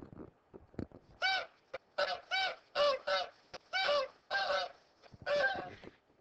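Geese honk in a series of about nine loud, harmonic calls in quick succession, with short pauses between them, heard alone and fairly close.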